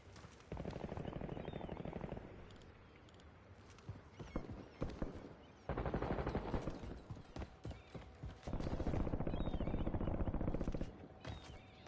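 Rapid bursts of automatic gunfire in the video game Call of Duty, several loud stretches of dense firing separated by sharper single shots and short gaps, close and punchy.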